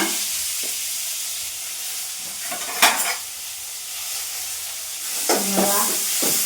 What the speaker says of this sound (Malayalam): ഉലുവട്ടിൽ പൊട്ടുമ്പോൾ കറിവേപ്പില ഇടുക പിന്നെ നമ്മുടെ ഉള്ളിയും തക്കാളിയും കൂടെ